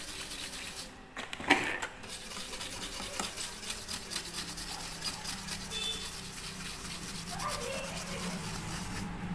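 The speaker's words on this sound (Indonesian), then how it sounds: "tinggal dibersihkan menggunakan thinner A spesial biar kinclong lagi mesinnya" A brush scrubs a Polytron TV circuit board clean with thinner, a continuous soft scratchy rubbing close by with some faint knocks.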